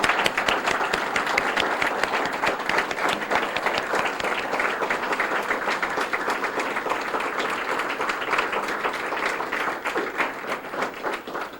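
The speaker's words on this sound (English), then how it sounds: "How about applause?" An audience bursts into sustained, dense applause for the veterans at a Vietnam veterans speaker series, many hands clapping loudly and evenly throughout with no break.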